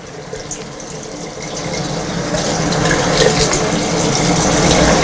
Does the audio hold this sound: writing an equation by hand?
no